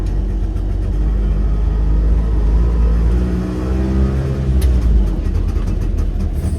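Auto rickshaw engine heard from inside while riding, a steady close low rumble with gentle shifts in pitch as it accelerates.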